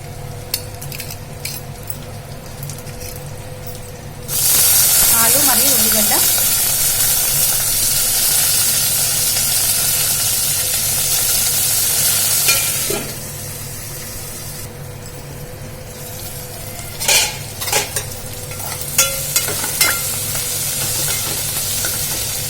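Dried red chillies, green chillies and ginger garlic paste hit hot oil for a drumstick sambar, bursting into a loud, steady sizzle that fades after several seconds, followed by quieter frying with a few clinks of a utensil.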